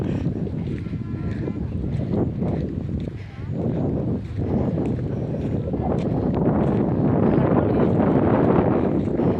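Strong, cold wind blows near water, a steady loud roar and buffeting across the microphone throughout, with faint voices buried beneath it.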